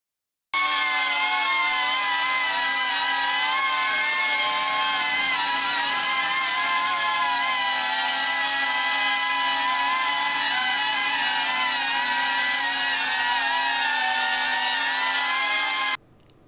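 An Axisflying C35 whoop drone's motors whine loudly and steadily, a high buzzing drone with slight wavering pitch, starting abruptly and cutting off near the end.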